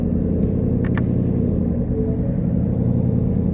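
A custom Ford Shelby GT500 Cobra running on drag radials settles into a loud, steady, close rumble as its engine idles, with a couple of brief sharper bursts early on.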